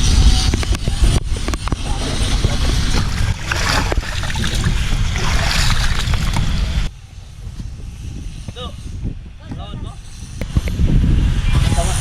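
A steady motor drone and rushing water fill the clip, with a brief dip in noise before the engine roar of the moving boat returns.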